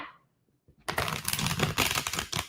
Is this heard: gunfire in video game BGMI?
no